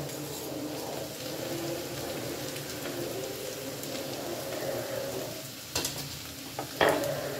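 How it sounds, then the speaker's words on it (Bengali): Rice being stirred and mixed into fried rice in a pan, a steady low scraping and soft sizzle running throughout, with a couple of sharper utensil knocks near the end. "এইভাবে অল্প অল্প করে দেব আর অল্প অল্প করে মিশিয়ে নেব।"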